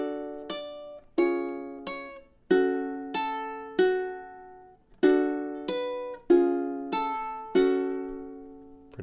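Ukulele plucks a song melody, measures 25 to 28, as a clear run of bright, sharply attacked notes in a bouncy rhythm, each ringing briefly before the next, played alone without talk.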